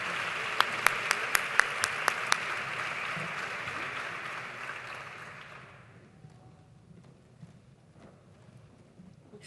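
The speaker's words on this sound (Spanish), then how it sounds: "Para las dos, un fuerte aplauso" Audience applause at an educational excellence awards gala, a dense wash of clapping from a large crowd that holds steady for about five seconds and then fades away, a few sharper claps standing out near the start.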